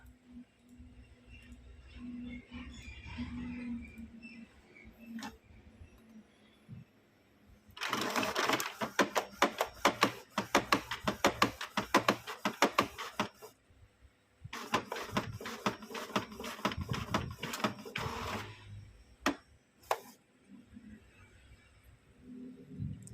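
An Epson printer with a faulty belt and encoder strip runs in two long bursts of rapid rattling, knocking, clattering mechanical noise, with quieter whirring and pauses between passes.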